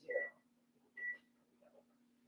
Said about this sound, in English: Meanwhile, I'm going to set the timer.